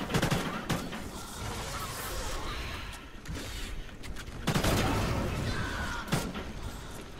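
Rapid AK rifle fire in Call of Duty Ghosts crackles in dense bursts amid other explosions and battle noise, loud and close throughout.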